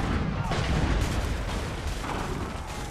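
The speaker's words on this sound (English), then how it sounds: "Incoming fire!" Incoming artillery fire in Assassin's Creed 3 sounds as dense, rumbling booms and blasts layered over continuous battlefield noise, loud and steady, with some voices mixed in.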